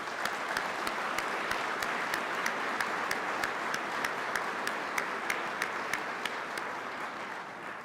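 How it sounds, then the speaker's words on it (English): Sustained audience applause at a peace officer academy graduation ceremony, soft and somewhat distant, with a steady wash of many hands and a regular, evenly spaced sharp clap repeating throughout. "would you join me in a round of applause recognizing their work?"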